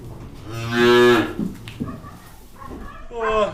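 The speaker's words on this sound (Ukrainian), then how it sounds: "Це наша майбутня корова." A Brown Swiss cow moos loudly and close by in a long, drawn-out call, followed by shorter lowing sounds, while people talk nearby.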